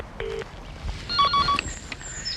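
Telephone call being placed: short beeping dial tones followed by electronic ringing tones on the line, fairly quiet over faint background hiss, no speech yet.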